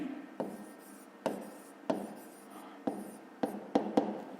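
Chalk or pen strokes scratch across a board during a fifth-grade math lesson, coming in short repeated bursts with brief pauses between, close and fairly quiet, with no voice over them.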